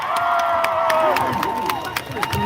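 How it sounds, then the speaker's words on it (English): Crowd at a Palestine protest claps and cheers, with rhythmic clapping and raised voices blending with a shouted call over the noise, loud and close. "Can we give a big round of applause to Khalid from Nablus"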